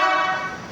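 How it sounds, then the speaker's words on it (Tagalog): A Maruko aftermarket horn on a Toyota Hiace Commuter Deluxe sounds one short, loud, steady honk with a bright, buzzy tone, heard up close with no talking. "Ito yung sa Maruko horn at saka sa Bosch Europa."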